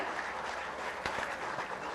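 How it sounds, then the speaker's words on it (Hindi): Crowd applause at a government appointment letter ceremony in Jharkhand, a dense continuous wash of clapping heard from a distance with a few sharper claps near the middle. "जोरदार तालियां होनी चाहिए।"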